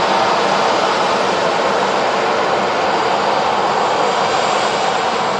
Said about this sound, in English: It's a noisy 737.